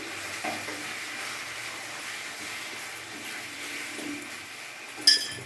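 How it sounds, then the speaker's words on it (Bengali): Chili sauce being stirred into chili chicken frying in a pan, a steady low sizzle with soft scraping stir strokes and a sharper clink of the utensil near the end. "চিলি সস দিলাম, একটু মেরে নিই"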